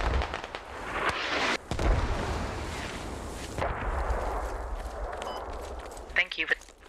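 Mortar barrage in the military shooter Squad, pounding Del's farm: repeated booming blasts and rumbling impacts fill the mix, with a few sharper cracks near the end, while people talk over the shelling.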